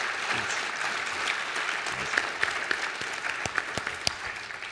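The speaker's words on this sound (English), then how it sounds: "a warm round of applause for Craig Smith and Jeffrey Massimilla" An audience at a technology conference keynote on connected-car security applauds the speakers, a broad, even wash of many hands clapping with a few sharper claps standing out near the end.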